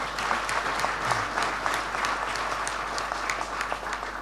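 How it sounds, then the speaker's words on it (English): Audience applause at a speaking event, a steady wash of many hands clapping filling the room at an even level throughout, with no voices over it. "Please give him a big round of applause"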